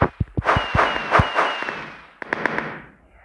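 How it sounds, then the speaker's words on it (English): Fireworks in the Minecraft video game: a rapid series of sharp pops and bangs followed by sparkling crackles and a fading hiss, then a second burst of crackling pops, fairly loud and close. "Here's fireworks."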